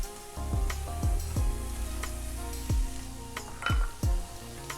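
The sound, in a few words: cold butter added to a hot pan, sizzling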